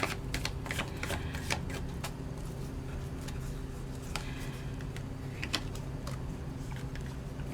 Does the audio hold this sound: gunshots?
no